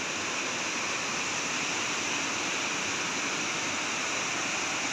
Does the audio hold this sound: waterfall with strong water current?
yes